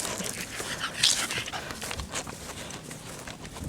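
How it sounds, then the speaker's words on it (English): A dog pants and whimpers close by, with soft, uneven breathy bursts over a steady background hiss for a few seconds. "Look at this dog."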